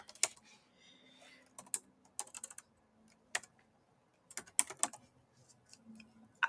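Bursts of typing on a computer keyboard while entering a website address for a QR code, with quick clusters of key clicks separated by short pauses, close and fairly quiet.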